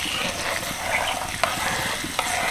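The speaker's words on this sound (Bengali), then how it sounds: "হালকা নেড়েচেড়ে রসুনটাকে ভেজে নেব" Garlic frying in oil over low heat for a raw mango pickle, stirred gently, a steady close sizzle with two brief scraping stirs.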